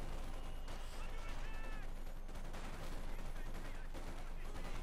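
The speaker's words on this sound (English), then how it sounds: "the assault rifles spewing out hot, copious amounts of death" Assault rifle and machine gun fire in Company of Heroes 2 rattles on without pause, dense overlapping bursts forming a continuous loud battle din.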